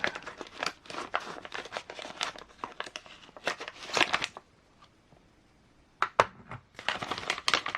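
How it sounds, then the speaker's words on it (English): A plastic bag of parts for a Boom Racing BRX02 Land Rover Series III 88 scale model kit is cut open and handled. The crinkling and rustling comes close and in bursts, with a quiet gap near the middle. "So I'm just gonna cut open the bag."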